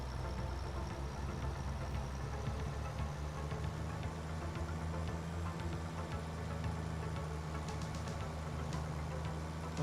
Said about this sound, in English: I guess this tractor's underpowered too.